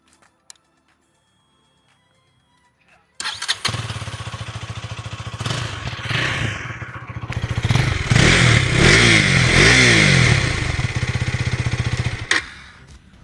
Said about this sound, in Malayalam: നമുക്കിനി ഇതിൻ്റെ എക്സോസ്റ്റിനോട് വന്ന് കേട്ട് നോക്കാം.